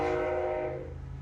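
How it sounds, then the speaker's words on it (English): A train rumbles close by with a steady tonal drone, loud at first and easing slightly as it passes. "There's a train there."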